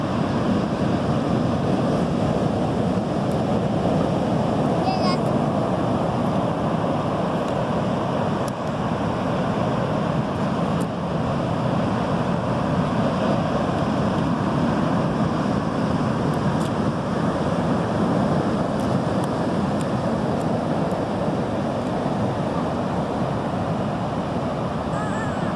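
Ocean surf rolls in at Lincoln City on the Oregon coast, a steady, loud wash of waves mixed with wind noise buffeting the microphone throughout.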